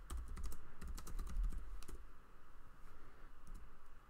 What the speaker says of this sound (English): if we were to just type regularly